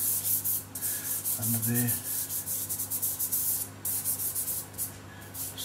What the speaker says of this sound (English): You can smudge through this just with a fingertip. Just rub them together.